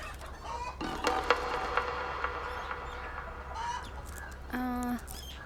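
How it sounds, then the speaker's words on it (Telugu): Roosters and hens at a rural Andhra poultry keeper's yard crow and cluck in several bursts, with one long crow near the end over a steady low background hum. "పుంజులు చూస్తారా?"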